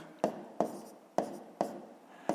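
A pen or pencil writes on paper while a math exercise is worked out, giving five quiet, close scratching strokes at a fairly even pace, with no voices.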